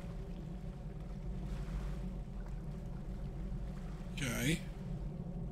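In the video game Deadliest Catch: The Game, a crab fishing boat's engine drones steadily with low rumbling waves and wind. Someone speaks briefly over the constant hum.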